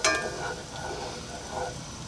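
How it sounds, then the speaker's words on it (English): Butter melting gently over low heat in a small pot, a soft quiet sizzle opening with a light metallic clink, then faint bubbling and the occasional scrape. "I'm just going to melt that butter nice and gently"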